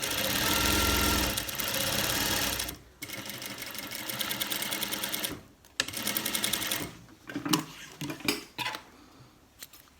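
A sewing machine stitches yokes onto the back legs of cargo pants in fast, steady bursts of running stitches, stopping and restarting several times with clinks of the fabric being handled between runs.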